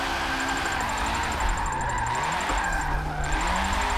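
A Nissan S13 with an SR20 engine, a street drift build, held at full throttle. The engine drones hard and continuously, with its pitch wavering as the car slides, and a steady high whine sits above it.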